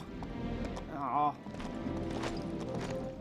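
Horse hooves clip-clop in LEGO Marvel Super Heroes 2, mixed with game voices and music, with a brief louder tonal burst near the middle.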